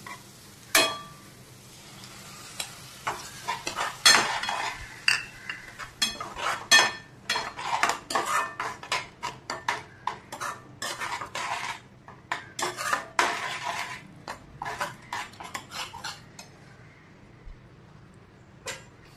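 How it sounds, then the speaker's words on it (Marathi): Masala with curd stirred in a metal pan for shahi bhendi: a busy run of clinking spoon-against-pan scrapes and knocks in irregular bursts, close and fairly quiet, easing off toward the end. "मस्त असं परतून घेऊया आणि त्यामध्ये टाकूया दही"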